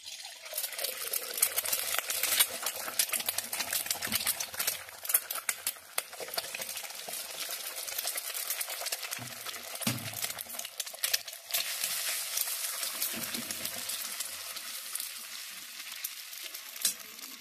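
Eggs dropped into hot oil in a pan for egg tarka, a steady close sizzle and crackle of frying with occasional stirring scrapes, no talking.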